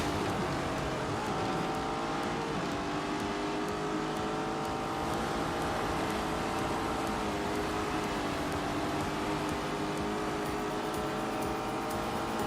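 A Lamborghini Urus engine driving in The Grand Tour video game, a continuous loud drone with shifting harmonic pitch as it revs and settles, steady and close throughout, with no talking.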